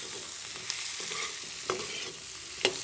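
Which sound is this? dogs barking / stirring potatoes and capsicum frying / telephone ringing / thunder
stirring potatoes and capsicum frying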